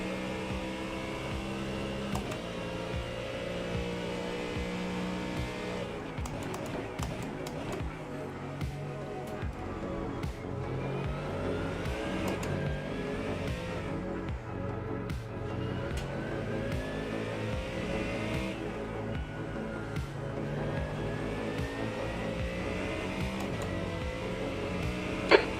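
Race car engines rev and drone continuously through a sim-racing broadcast of an iRacing exhibition race, with layered engine tones rising and falling under steady commentary.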